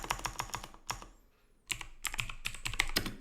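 Rapid bursts of keystrokes on a computer keyboard as a command is entered, clattering in uneven runs with a brief pause midway, close and clear with no talking.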